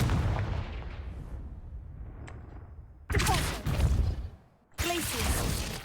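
A Confringo fire spell blasts in Hogwarts Legacy, heard as two sharp, loud bursts of fiery crackle and impact over a rumbling game soundscape, with a brief dip into quiet between them.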